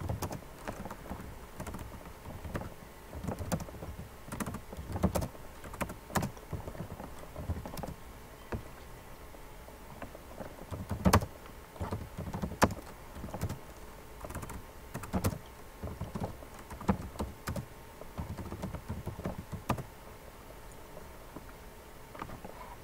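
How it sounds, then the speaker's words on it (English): Fingers typing on a computer keyboard in irregular bursts of close, light clicks, with a few sharper key strikes and brief pauses, no talking. "I'm gonna type IMDb in here."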